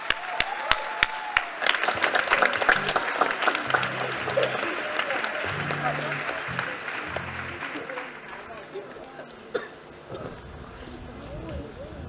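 A concert audience at a spring festival applauds young singers and their conductors with dense, sustained clapping that rises and then fades. A voice speaks over the clapping near the end.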